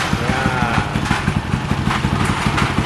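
Motorcycle engine idling close by after starting, a loud steady putter with a quick, even firing rhythm that runs throughout.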